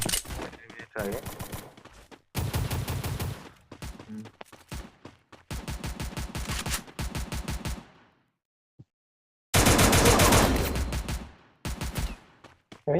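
Counter-Strike gunfire comes in loud automatic bursts of rapid shots separated by silent gaps, with a single sharper burst near the end.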